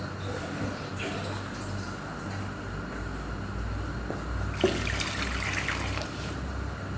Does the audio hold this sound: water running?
yes